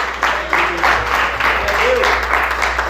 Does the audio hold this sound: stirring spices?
no